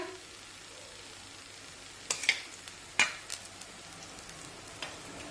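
Omelette batter cooks in a hot pan with a faint, steady sizzle, broken by two or three light clicks of a utensil near the middle.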